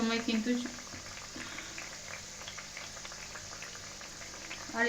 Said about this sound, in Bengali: তো এবার একটা একটা প্যাটিস আমি তেলের মধ্যে ছেড়ে দিচ্ছি